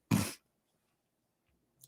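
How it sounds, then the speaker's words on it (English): One sharp, close sneeze bursts out loud and breathy, then gives way to near silence with only a faint soft sound at the very end. "I always have to sneeze as soon as I get on."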